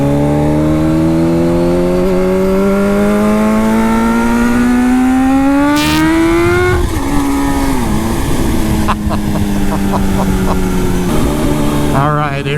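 2020 Kawasaki Z H2 motorcycle accelerating hard in second gear, engine pitch climbing steadily then dropping at a shift and rising again, loud and close with heavy wind rush throughout.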